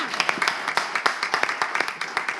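Clapping from an audience on a French-language talk show, a small group clapping in a fairly regular rhythm with distinct individual claps, close and moderately loud.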